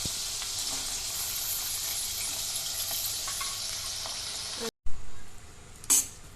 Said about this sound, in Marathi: आपल्याला या भाज्या थोड्याशा फ्राय करायच्या आहेत